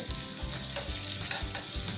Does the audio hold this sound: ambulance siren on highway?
no